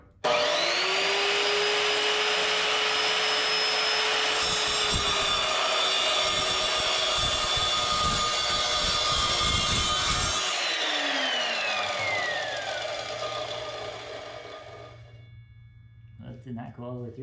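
A loud, steady power-tool whine from a metal-cutting chop saw grinds on with a harsh cutting rasp through metal, then winds down and fades to near silence; the cut does not go all the way through.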